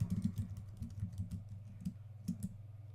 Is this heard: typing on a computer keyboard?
yes